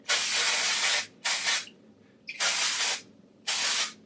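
Hair product spray misted onto curls, four distinct hissing bursts of about a second each separated by short pauses, close and fairly loud, with no talking.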